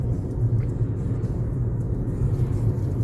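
Buses rolling along a city road in Khabarovsk, Russia, a continuous low engine rumble and tyre roar heard from nearby outdoors, steady and unbroken.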